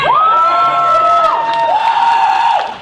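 A comedy club audience member screams loudly in response to a joke about Star Trek, a sustained shrill cry holding a pitch, then gliding down and rising again over steady crowd noise.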